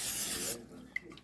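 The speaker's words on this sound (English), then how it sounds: "So we're going to use the cooking spray." A steady hiss of aerosol cooking spray for about half a second, then it stops, leaving quiet with a small click.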